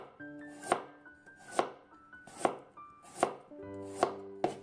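A knife slices a carrot into thin pieces on a cutting board, six crisp, evenly spaced chops that stand alone without talk.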